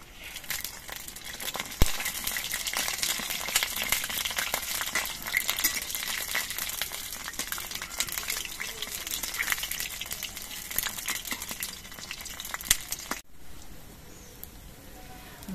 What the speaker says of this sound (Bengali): এবারে এই ডাল বাটা দিয়ে আমি বড়া ভেজে নিচ্ছি